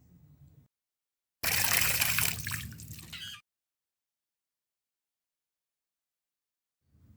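Water runs from a tap in a short, close gush that lasts about two seconds and then stops abruptly, set between quiet moments.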